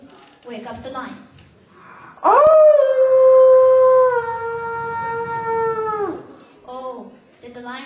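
A wolf howl rises sharply and holds one long, loud, steady wail for several seconds before tapering off, framed by shorter yelping howls before and after, alone without speech.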